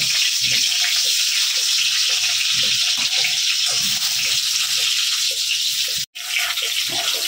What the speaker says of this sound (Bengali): এবার আলুগুলোকে আমি একটু ভেজে নেব।